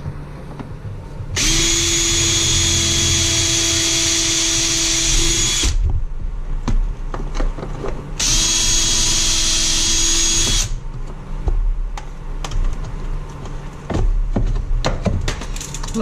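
A power drill drives bolts to fasten a bracket on a CFMoto heater: two loud, steady whirring runs of several seconds each, separated by a pause, followed by clunks and handling noises.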